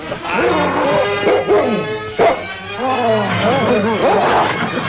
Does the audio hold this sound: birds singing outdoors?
no